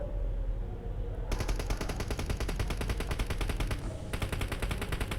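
Rapid automatic gunfire rattles in a battle royale video game, a fast, evenly spaced stream of close, loud shots that runs almost without pause, with a brief break near the end.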